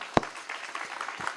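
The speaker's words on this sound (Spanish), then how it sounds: "Un aplauso primero." Brief burst of audience applause at a talk on rock and art, one sharp clap up front followed by a scattered, moderately loud patter of clapping.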